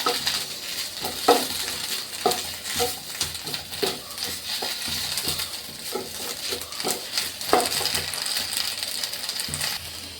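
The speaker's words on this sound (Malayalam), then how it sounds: "ഫ്ലെയിമെല്ലാം ഓൺ ചെയ്ത് ഒന്ന് ഇളക്കി കൊടുക്കുക" Leaves being stirred in a hot pan on a stove, a faint continuous sizzle with repeated light scraping and tapping strokes at an uneven rhythm throughout, close by and with no voices.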